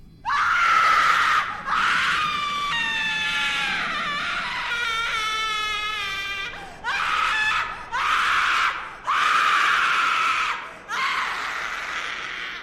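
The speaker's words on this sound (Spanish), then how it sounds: "escuchó un grito desgarrador que le erizó todo el cuerpo" A harrowing female scream fills a ghost legend narration, rendered as a series of long, piercing, wavering shrieks and wails with short gaps between them, loud and close, with no talk over it.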